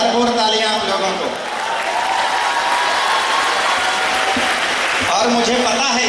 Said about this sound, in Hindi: भरपूर तालियां आप लोगों को